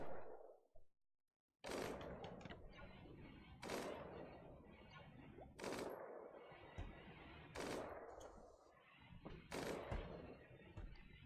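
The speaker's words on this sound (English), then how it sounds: "Looks like Jem's out practicing with the LMG, the new LMG." LMG practice fire in the Rimworld video game: repeated sharp bursts of automatic gunfire spaced a second or two apart after a brief silence, faint overall and with no talk.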